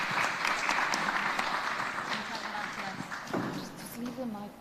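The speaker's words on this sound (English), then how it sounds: "a big applause to all of them" Audience applause at a stakeholders' event, a dense patter of clapping that holds steady for several seconds before thinning, with a voice speaking over it near the end.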